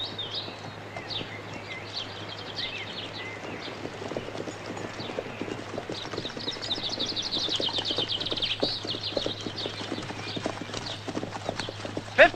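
Horses carrying riders clip-clop steadily along a path in 1968 England, a brisk rhythmic run of hoofbeats. Birds chirp faintly in the background and a louder knock comes at the very end.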